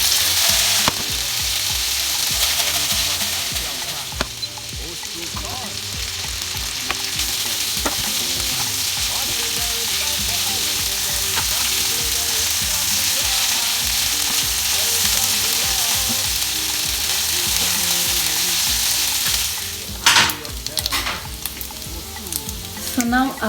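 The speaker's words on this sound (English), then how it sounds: "Là, je vais sauter notre gésier pendant 5 minutes until it becomes golden brown." Chicken gizzards sautéing in a pan for a gizzard stir fry with green pepper sauce, a loud continuous close sizzle with occasional stirring scrapes and clatter, no talk.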